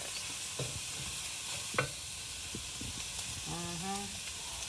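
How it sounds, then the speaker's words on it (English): Vegetables cooking in a pan for shrimp and chicken jambalaya, giving a soft steady sizzle with occasional stirring clinks and scrapes, fairly faint, while someone speaks briefly. "Cook the vegetables first."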